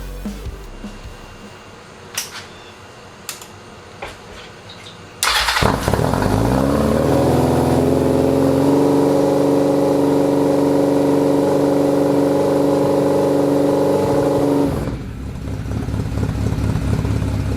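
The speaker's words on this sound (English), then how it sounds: "From here, we can attempt to start the motorcycle." A Honda CB750 cafe racer freshly fitted with Murray's carburetors cranks a few times. It then fires into a loud, steady rumbling run that holds for about ten seconds before the revs drop back to a rougher idle.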